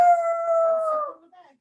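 A person imitates a howl with one sustained, wavering vocal tone that holds steady and then slides and fades out, loud and close, alone.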